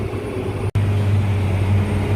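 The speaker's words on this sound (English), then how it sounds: "that tractor's working hard" A tractor engine labours steadily under heavy load while pulling tillage equipment across hard ground in a tillage race, with a loud, continuous low drone and a momentary dropout near the start.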